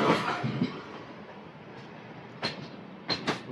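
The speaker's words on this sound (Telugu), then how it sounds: "విజయవాడ స్టేషన్లోకి అయితే ఏదో ట్రైన్ అయితే వస్తుంది" A train, hauled by a WAP electric locomotive and running from Dharmavaram to Machilipatnam, rolls into Vijayawada station with a steady broad rumble that fades slightly, then brief sharp squeals or clanks near the end.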